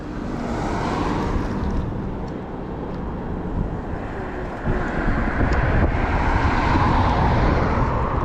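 Loud, steady wind rush with a low road rumble from an 8000W Tommebike DIY e-bike riding fast in power mode 2, the roar building slightly louder partway through.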